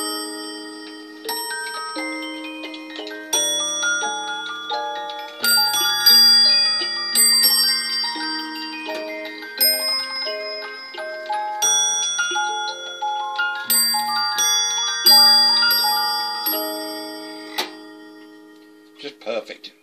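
A Symphonion disc music box with bells plays a bright, tinkling melody with bell strikes and soft low thumps like a drum, ending as the tune winds down.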